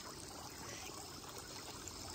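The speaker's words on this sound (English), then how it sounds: "This is a water fountain." A small store-bought water fountain trickles and splashes steadily, a soft, continuous flow heard close up and alone.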